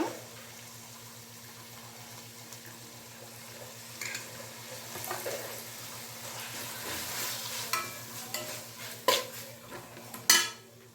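Hakka noodles stir-fried in a pan with tomato ketchup and soy sauce, a steady low sizzle under repeated scraping and stirring strokes, with sharper utensil clinks on the pan growing louder toward the end.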